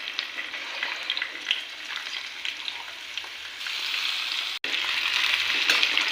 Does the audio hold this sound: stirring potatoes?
yes